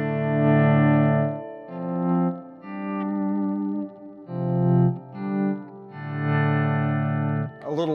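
A Reeves Reevesverb spring reverb with its tone knob turned way down, carrying sustained, distorted guitar chords in loud phrases with short gaps, darkened reverb tails, and a brief brighter twang at the very end.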